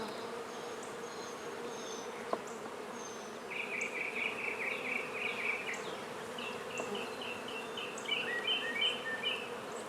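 A honey bee swarm hums steadily around a hive, a dense continuous buzz with individual bees whining past at varying pitch, close and fairly quiet, with no voices.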